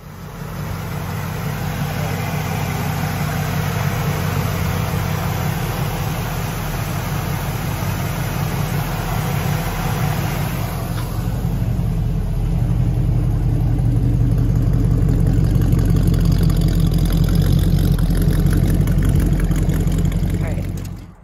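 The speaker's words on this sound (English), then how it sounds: "Got a cold start on a 1947 Ford." A 1947 Ford Business Coupe with a 5.0-litre engine and 3-speed automatic fires up cold and settles into a steady, loud idle, the low rumble thickening in the second half.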